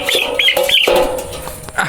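A chicken clucks and squawks in short bursts, close and fairly loud, while it is held on a scale to be weighed.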